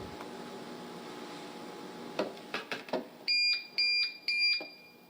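An airport boarding pass scanner at a security checkpoint gives three clear, evenly spaced electronic beeps after a few clicks and thumps of handling, alone in a quiet room.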